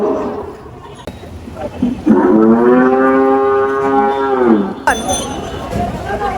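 A single long, loud cow moo rises and holds for about three seconds amid murmuring crowd noise and background chatter at the Dholaikhal cattle market in Dhaka during Eid al-Adha.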